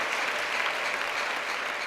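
Church congregation clapping in a sustained, dense burst of applause, steady and loud throughout with no voices standing out.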